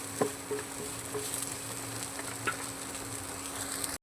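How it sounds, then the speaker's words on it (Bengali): Soybean chunks frying in a pan make a faint, even sizzle with a few soft pops and light crackles. "সয়াবিনটা ভেজে নিতে হবে তো বন্ধুরা আমি সয়াবিনটা ভাজে থাকি"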